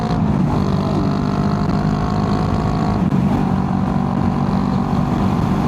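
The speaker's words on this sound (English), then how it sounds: "you guys can probably hear the exhaust I've got on this as well" A loud, throaty Honda Rebel 500 motorcycle with a cheap aftermarket Shorty GP exhaust idling steadily nearby, a deep continuous rumble with a slight blip partway through.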